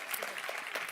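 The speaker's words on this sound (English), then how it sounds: "Let's give her a warm applause, please" Warm applause from a forum audience at a conference hall, a soft, fairly distant patter of many hands, brief and even in level.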